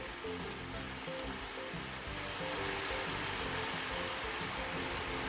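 Onion and pork sizzling in a pan for tonjiru, a soft, steady frying hiss with faint crackle, fairly quiet and continuous.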